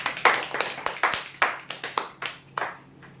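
Brisk hand clapping from a small group at a Marathi prize-draw ceremony, greeting the winner of a rolling chair; uneven bursts of claps close by, fading toward the end.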